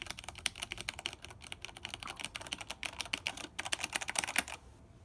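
Fast typing on a mechanical keyboard with linear, non-tactile switches: a close, dense stream of crisp key clacks in quick bursts, ending abruptly, with no voices.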